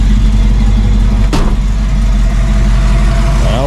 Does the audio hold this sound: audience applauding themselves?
no